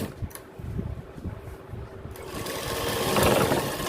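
A sewing machine stitches gents' pants, starting with short uneven bursts of mechanical whirring and then settling into a steady, louder continuous run, heard close with no talking.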